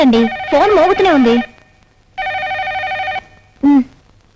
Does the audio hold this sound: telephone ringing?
yes